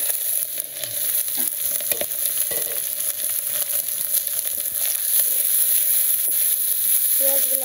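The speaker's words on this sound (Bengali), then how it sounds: "পেঁয়াজগুলা হালকা ভেজে নিচ্ছি" Onions fry steadily in a hot pan for a village-style country chicken curry, a loud, dense, continuous sizzle with occasional stirring scrapes and no talking.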